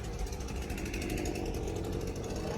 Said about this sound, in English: I love those leaf blowers when I do my videos